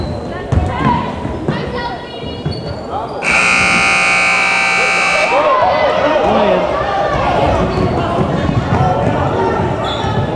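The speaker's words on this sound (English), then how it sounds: "they got the shot off just as the shot clock buzzer ran" A shot clock buzzer at a girls' high school basketball game blares loudly for about two seconds amid squeaking sneakers, bouncing balls and crowd noise, with voices heard throughout.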